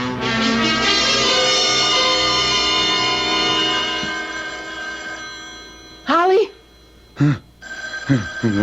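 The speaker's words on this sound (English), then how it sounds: "Can't you hear the phone?" A telephone bell rings as a radio drama sound effect, a loud continuous trilling ring that fills the first several seconds and then fades, followed by a few brief spoken words.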